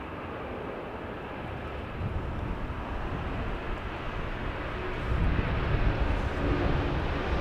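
A jet airliner taking off from Los Angeles International Airport, a broad distant engine roar that holds steady and then swells louder toward the end, with no voices over it.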